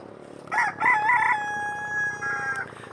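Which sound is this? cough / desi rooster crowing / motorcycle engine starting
desi rooster crowing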